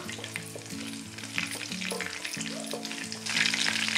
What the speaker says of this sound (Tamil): எண்ணெயில் சோம்பு சேர்க்குறேன், கருவேப்பிலை, பச்சை மிளகாய். இதை ஒரு ஃபியூ செகண்ட் நம்ம வதக்கிக்கலாம்.